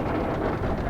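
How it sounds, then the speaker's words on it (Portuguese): Heavy rain falling in a steady, dense hiss with a low rumble beneath it, continuous and close for the whole second. "Olha essa chuva, pessoal."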